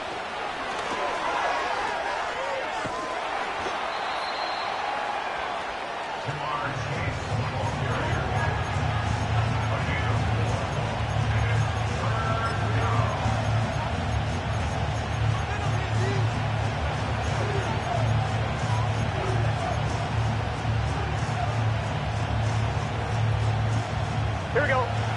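A steady, loud stadium crowd roar in an American football video game rises sharply and holds continuously as third down approaches, with a commentator talking over it.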